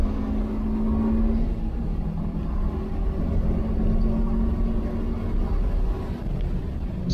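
A Subaru STI accelerating on an Autobahn race track, heard from inside the car as a steady, loud engine drone with a low hum running throughout, with no talk over it.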